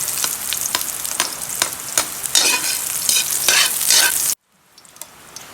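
Chopped garlic fries in hot oil in a pan for chopsuey, a loud steady sizzle with sharp stirring scrapes, then it cuts off abruptly near the end, leaving only faint clatter.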